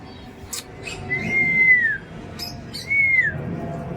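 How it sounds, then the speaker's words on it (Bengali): Birds call at a village home, two clear drawn-out whistled notes that glide downward, separated by a pause, over soft background rustle and faint clicks. "এই যে পাখিগুলো এবার বের হলো এতক্ষণ মনে হয় ঘুমোচ্ছিল"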